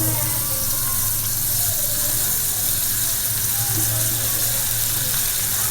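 Steady hissing sizzle of cumin seeds frying in hot oil, close and continuous, with faint kitchen clatter underneath.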